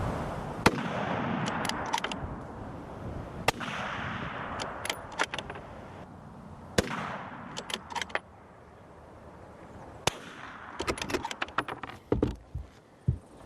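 Sonic and subsonic 7.62 rifle cartridges are fired in turn, sharp single reports spaced apart, some loud cracks and others softer thuds, each followed by fainter metallic clicks and handling noise.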